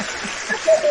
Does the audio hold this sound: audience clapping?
yes